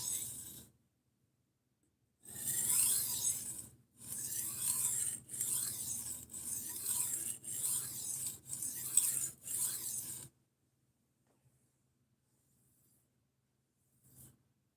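Knife blades drawn repeatedly across a sharpener, a series of close, steady rasping strokes in several bursts, then near silence with a faint knock at the end.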